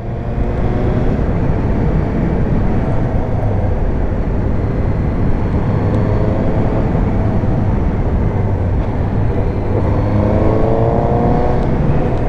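Steady, loud Suzuki GSX-S 750 (A2) motorcycle engine drone with rising pitch as it accelerates, reaching about 3200 rpm in fifth gear at 70, mixed with heavy wind rush throughout.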